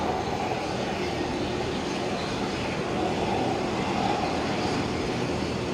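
A jet aircraft taxiing across Taxiway Yankee at Brisbane Airport toward the new runway, a steady, broad engine roar held at a constant level throughout, heard at a distance with no talk.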